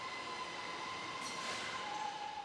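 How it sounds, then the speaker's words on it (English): A company train on the Huawei campus in Shenzhen rolls past with a steady rumble and a thin sustained wheel whine, continuous and moderately loud throughout, with no voices. "They have their own train."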